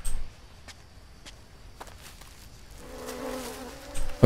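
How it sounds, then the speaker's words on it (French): Bees in the Green Hell survival video game, heard as a steady buzzing drone that rises in the second half, with soft footsteps and a few clicks earlier on. "Ok, j'entends un nid d'abeilles. Enfin, j'entends des abeilles."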